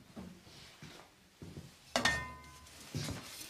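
A metal frying pan clanks once sharply, ringing briefly, with softer handling knocks and bumps before and after.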